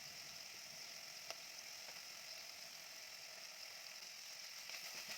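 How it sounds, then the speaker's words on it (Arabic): Beef searing in a nonstick pot for a one-pot vegetable and meat soup, a steady close sizzle with faint scraping ticks and no talking. "هندي اللحمة بقى التشويحة التمام بتاعتها كده"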